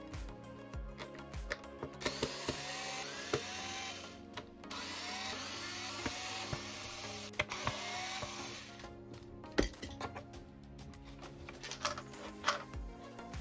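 A power screwdriver whirs in short bursts, with ratcheting clicks, as screws come out of the control board of a JBL PartyBox Club 120 speaker. Small clinks and handling noises fill the gaps, close and quiet.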